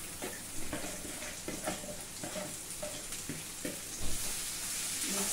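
Cut okra frying in hot oil with asafoetida in a pan, a steady close sizzle with intermittent louder scrapes and stirring knocks, no voices.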